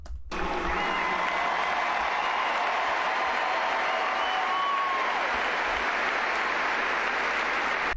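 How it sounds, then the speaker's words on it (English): A large crowd at a memorial applauds continuously, a dense, steady wash of clapping that holds at full volume throughout with no letup. "They're applauding the silence."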